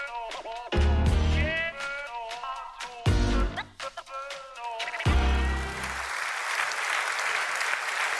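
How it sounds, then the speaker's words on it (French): Audience applause at a Belgian comedy stage show, a dense clapping wash rising near the end after loud voices and music-like bursts earlier in the recording. "Vous applaudissez Manu Kuman et Sébastien Waroquier"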